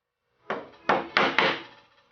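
A steel chisel struck four times in quick succession to chop a mortice in a piece of wood, each sharp close tap decaying briefly, with no talking.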